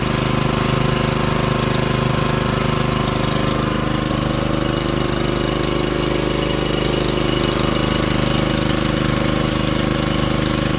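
Steady, close idle from a manlift engine running through its new muffler, a constant mid-pitched chugging drone with no change in pace and no talking over it.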